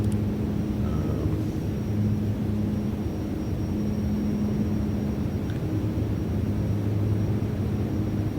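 A Metroliner turboprop drones steadily in a flight simulator, a continuous low hum with a constant engine tone running throughout at an even level.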